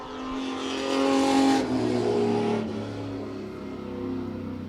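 Race cars roar around the oval at Wiscasset Speedway during a 10-lap sprint, two engines loud and close, swelling as they pass and then easing into a steady drone.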